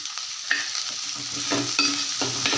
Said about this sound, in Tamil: வெங்காயம் உடனே வதங்கிறதுக்கு கொஞ்சம் உப்பு போட்டுக்கிறேன்